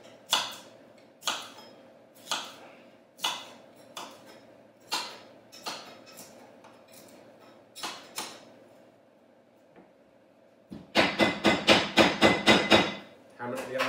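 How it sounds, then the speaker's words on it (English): A tool strikes repeatedly while pressing turkey and cabbage parcels down while cooking, about a dozen sharp knocks in an even rhythm, then a quick burst of rapid rattling blows near the end. "Hammer it down as far as the top goes"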